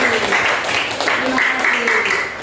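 A school class of seventh-graders applauds after a student group's presentation, with steady, close, fairly loud clapping running for a couple of seconds and voices mixed in beneath it.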